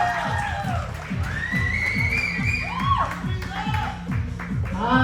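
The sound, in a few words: audience applause and cheering at open mic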